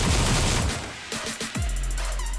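Rapid gunfire in a shooting video game, loud and dense bursts at the start, then scattered single shots before a low steady hum takes over.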